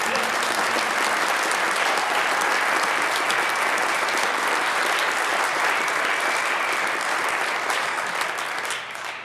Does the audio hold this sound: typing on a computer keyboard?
no